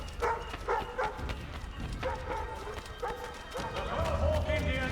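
Horse hooves clip-clop at a steady trot through a bustling colonial town in Assassin's Creed 3, mixed with crowd chatter and voices speaking over the footfalls.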